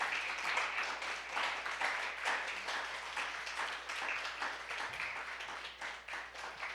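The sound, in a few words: congregation applause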